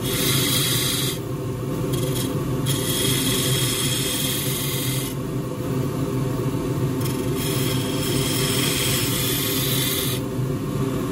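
Skew chisel cutting a grasstree hut box spinning on a wood lathe, a continuous loud rasping scrape with brief pauses and changes in pressure, close up, with no talk.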